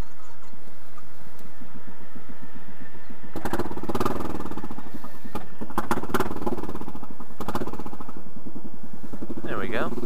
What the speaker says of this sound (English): If my bike will start.